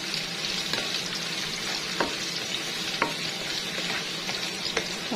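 Onions sauté in a hot pan for chicken pastel, with a steady close sizzle and a soft scrape of stirring about once a second, with no voices.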